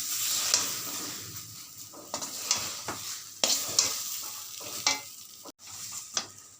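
A spoon stirs a dhoka lentil-cake mixture frying in a pan, giving a steady sizzle broken by repeated scraping strokes at a fairly quick, uneven rhythm, close and clear with no talking.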